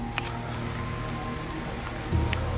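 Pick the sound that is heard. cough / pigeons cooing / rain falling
rain falling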